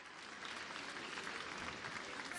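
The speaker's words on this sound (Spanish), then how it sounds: "todos los de allá démosle un aplauso a los chicos" An audience applauds at the opening of a new upper-secondary school campus in Guanajuato, Mexico, a faint, steady wash of many hands clapping at a distance, continuous throughout and without distinct individual claps.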